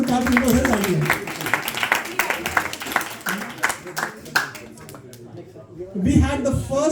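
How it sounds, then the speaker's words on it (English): An audience at a Bhakti Vriksha group presentation gives a round of applause, a dense spread of clapping that mixes with talking and fades near the end as voices take over. "please give a round of applause to Karthik for his idea"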